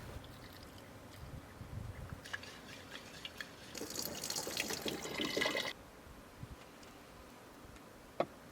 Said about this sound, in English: So time to rinse my sprouts